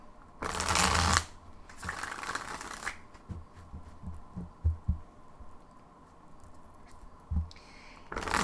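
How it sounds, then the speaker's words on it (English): Tarot cards are shuffled in a few quick riffling bursts near and distinct, followed by scattered soft taps and card handling in a quiet room. "let's pull some cards and see what is going on here"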